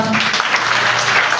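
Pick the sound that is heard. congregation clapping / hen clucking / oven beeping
congregation clapping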